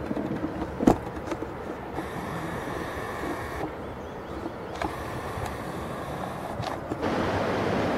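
Rushing water from rapids at a rocky bend of the River Tweed, a steady broadband roar with gusts of wind buffeting the microphone and a brief thump near the start, no voices.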